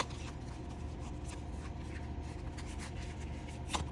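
A tarot deck printed on U.S. Games card stock is riffle shuffled up close, giving a soft continuous papery rustle with faint ticks and a brief sharper snap near the end.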